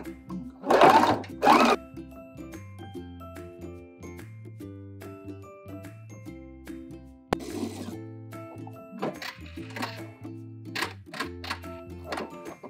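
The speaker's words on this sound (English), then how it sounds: "We can go over to the sewing machine and sew up the seam in one swoop." Sewing machine stitching a side seam on a cowl neck top, with whirring runs, short mechanical bursts and pauses, close and alone with a steady hum underneath.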